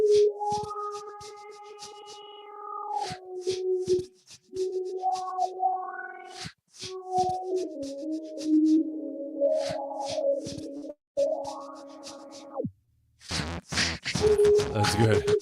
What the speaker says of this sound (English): Low pass filter, I love it.